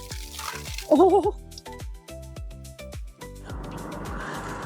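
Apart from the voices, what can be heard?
water spraying from a fire hose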